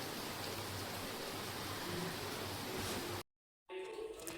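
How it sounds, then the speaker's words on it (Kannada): Rain beginning to fall during monsoon flooding, a steady broadband hiss of drops that fills the scene at moderate level, then briefly cuts out before resuming more quietly. "ಮಳೆ ಸ್ಟಾರ್ಟ್ ಆಯಿತೆ"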